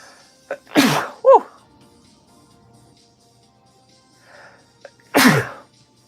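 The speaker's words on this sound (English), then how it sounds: "I gotta sneeze." Two sharp, explosive sneezes a few seconds apart, close and loud, with a short vocal sound between them in an otherwise quiet room.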